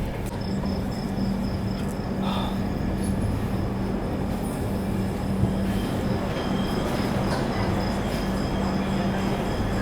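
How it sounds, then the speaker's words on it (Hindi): The Garib Rath Express 12187 runs on rails on the Jabalpur to Mumbai route, a loud steady rumble of wheels with clanks and faint squeals, heard from on board with no talk. "भाई ट्रेन हमारी पहुंची है गाडरवाड़ा रेलवे स्टेशन"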